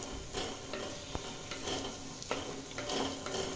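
Grated carrots fry with a constant close sizzle in a pan while a utensil stirs them, adding soft scrapes and a few sharp clinks against the pan; no talking.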